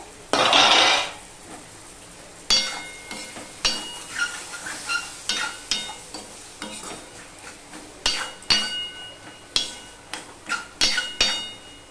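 Ridge gourd frying in a pan, stirred with a spatula that knocks and scrapes the metal in a rhythmic series of sharp clanks, plus a lid clatter and a light sizzle; no talk.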